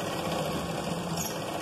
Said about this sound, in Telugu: ఇలా పట్టుకుంటూ చాలా జాగ్రత్తగా కడుసు కుట్టుకుంటూ రావాలండి.